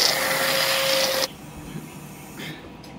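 An electric chopper grinds mixed fruit for a cereal bowl with a loud, steady motor whir that runs for just over a second, then cuts off abruptly, leaving a quiet room.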